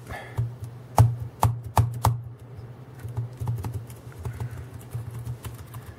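Keys are pressed on the faulty keyboard of a Dell Inspiron 11 3000 series laptop, with a few sharp, isolated clacks followed by quicker, lighter tapping, close and clear with no talking.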